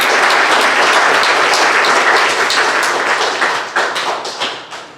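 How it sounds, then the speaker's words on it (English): Dense, loud applause fills a school awards assembly, many hands clapping together at once, then thinning into scattered claps that trail off toward the end. "we'll give her a round of applause"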